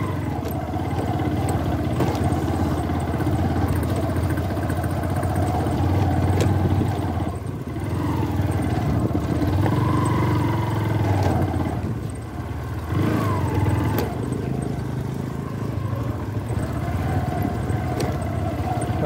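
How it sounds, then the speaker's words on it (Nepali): A motorcycle climbs a slippery off-road hill trail toward the Devchuli ridge, its mid-pitched engine droning steadily and close throughout, with brief revs and load changes as the rider works the bike uphill. "पर्ने बाटोमा बाइक कुदाएको छ"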